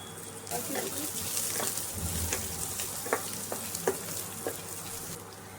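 Whole cumin and coriander seeds fry in oil with a continuous sizzle, punctuated by a few soft stirring clicks, close and moderately loud.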